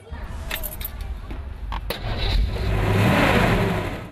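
A 64-year-old 1951 Ford F5 truck engine idles and rises into a fuller, louder rumble toward the end, steady mechanical noise close by with a few sharp clicks early on and no talk over it.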